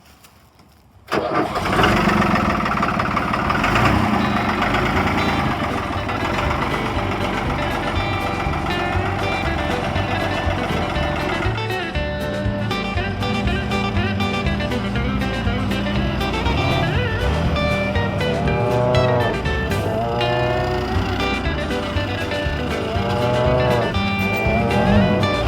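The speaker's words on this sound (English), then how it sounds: "This is a great big Fiat tractor" A large Fiat tractor engine, 60 horsepower, cranks and catches after a second of near silence, then runs loudly and steadily, a heavy diesel rumble that stays close throughout.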